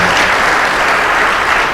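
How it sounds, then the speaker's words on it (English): An audience at an awards ceremony on a college campus gives a loud, continuous round of applause, a dense, even roar of many hands clapping with no talking. "Please give them a round of applause."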